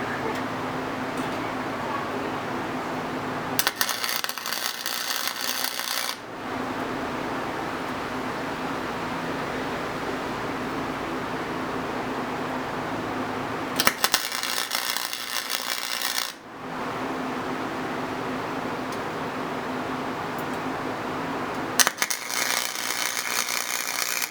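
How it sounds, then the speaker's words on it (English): Steel go-kart frame being welded in a home workshop, a steady crackling hiss running under a constant hum, broken by three short bursts of louder, harsher buzzing and sputtering close by. "so now we'll weld the other side."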